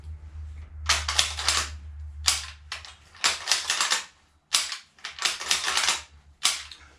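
A Mannlicher-Carcano bolt-action rifle is fired as fast as possible, giving a series of loud, harsh bursts in uneven groups with short quiet gaps between them across several seconds.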